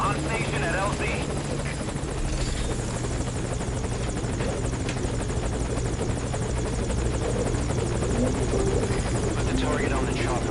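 A helicopter hovers at a landing zone in a video game, its rotor a steady loud droning whir throughout, with voices talking over it.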